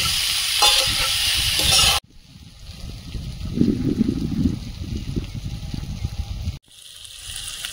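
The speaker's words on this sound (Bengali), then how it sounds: "এবারে জল দেব।" Water poured into a cooking pan of prawns frying, a loud hiss cut off at two seconds, then a sustained bubbling rush and simmer under a lid that swells midway, with a brief break near the end.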